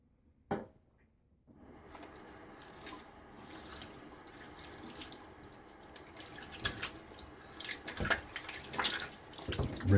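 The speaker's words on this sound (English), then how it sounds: "Rinse off my hand." Tap water runs into a sink for a hand rinse during a pre-wash before shaving, starting after a short click and a moment of silence, then a steady close splashing stream.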